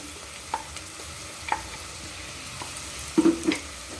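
Ground ginger paste stirred into onions frying in a pan for a gravy, with a soft sizzle broken by occasional spoon scrapes and a brief cluster of clatters near the end.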